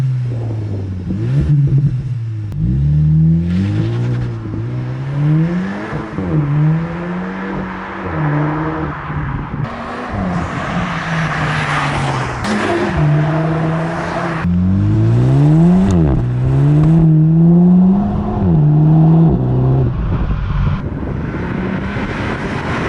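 A Volkswagen Golf 7 GTI TCR with a Stage 1 APR tune rated at 380 hp revs repeatedly, loud close engine notes rising and falling in pitch in a steady series of throttle blips with a rumbling idle between.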